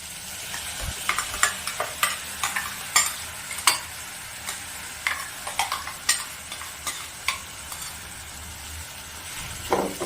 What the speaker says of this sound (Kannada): ಇದನ್ನು ಒಂದೆರಡು ನಿಮಿಷ ಹೀಗೆ ಫ್ರೈ ಮಾಡ್ಕೊಳ್ಳಿ, ಹಸಿ ವಾಸನೆ ಹೋಗಲಿ.